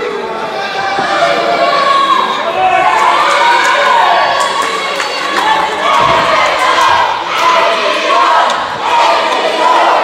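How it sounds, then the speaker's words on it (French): A loud crowd cheering and chanting for a wrestler at a live wrestling show, continuous dense shouting and yelling close up throughout, with an announcer's voice mixed in. "La foule qui encourage Emilio"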